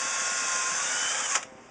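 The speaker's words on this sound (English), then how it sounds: "So I'm going to drill a little pilot hole where I made my mark" A power drill bores a pilot hole into a plywood-and-veneer box for a resonator ukulele build, a sustained high whine running steadily before cutting off abruptly near the end, close and loud.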